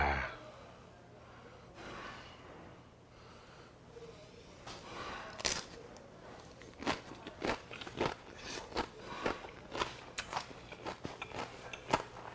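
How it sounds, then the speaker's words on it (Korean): Crunchy homemade kimchi from a kimjang day is bitten and chewed up close. A few soft bites come first, then a run of sharp, regular crunches and chewing sounds. "맛있게 남은 김치에 반주, 소주 반주 한잔하면서 맛있게 먹어보도록 하겠습니다."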